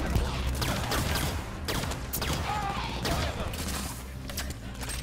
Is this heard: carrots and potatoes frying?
no